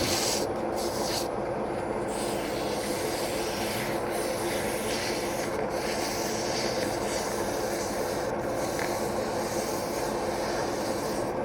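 Continuous abrasive rubbing of fine-grit sandpaper against a wooden ornament spinning on a lathe, a steady rasping hiss over a low machine hum, loud and close throughout.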